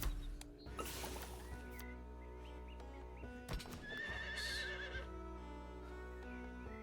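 A horse whinnies amid clip-clopping hooves and soft background ambience in a video game, with a bright neigh standing out near the end; no one speaks.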